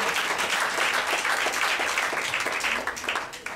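Church congregation applauding at a Sunday service temple dedication in Koumassi, a dense continuous wash of clapping from many hands that holds steady throughout and eases slightly near the end.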